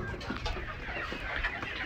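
Golden Misri chickens on a farm cluck softly and continuously, a low busy chatter of several birds nearby with no talking.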